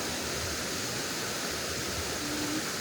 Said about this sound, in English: Look down to the waterfall.